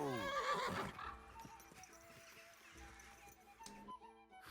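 In the video game Kingdom Come: Deliverance II, a purebred horse whinnies loudly at the start, then hooves clop steadily along at a moderate distance, quieter beneath faint background tones.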